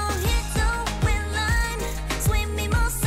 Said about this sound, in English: Hi-hat rolls. They're like, you can hear them in the background.